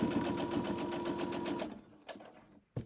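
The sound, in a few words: sewing machine sewing micro fabric pieces into crumb quilt block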